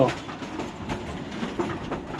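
A local passenger train rumbles steadily along the tracks with a continuous rattling, clattering texture and no voices, moderately loud throughout.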